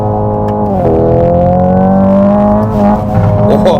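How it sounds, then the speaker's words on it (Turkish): A Hyundai Ioniq 5 N electric car revs hard and steadily, with crackling pops and bangs from its exhaust sound layered over the loud, continuous roar. "Patır kütür yapıyor. Bayağı egzoz patlatıyor."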